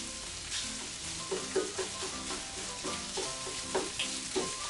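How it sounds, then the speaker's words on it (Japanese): Garlic fried rice is stir-fried with a spatula in a hot pan, giving a continuous close sizzle broken by irregular scraping and tossing strokes, with no talk. "あとはパラパラになるまで炒めます。"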